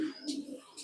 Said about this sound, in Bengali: এটা হলে নর কবুতর